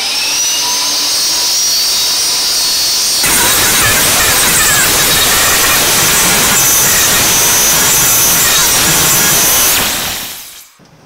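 A table saw cuts a wooden circle on a sled with a loud, steady whine. The sound grows harsher and denser as the blade bites into the wood, then drops off abruptly as the saw winds down at the end.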